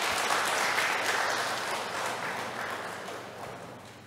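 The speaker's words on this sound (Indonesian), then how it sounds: "Kita berikan aplaus sekali lagi ya." Applause from a church congregation during a service, a sustained wash of many hands clapping together, steady and moderately loud before tapering off slightly.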